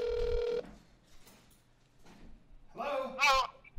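Telephone ringing during a call, a short electronic ring burst at the start followed by quiet, then people talking.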